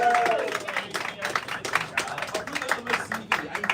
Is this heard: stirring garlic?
no